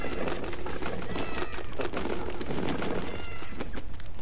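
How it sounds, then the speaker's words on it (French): A small cat's meow from a winter gift in the Fortnite video game, repeated short cries over a busy layer of game sound and music throughout. "on entend un genre de petit chat ou je sais pas quoi. Ah, un chat, un lion."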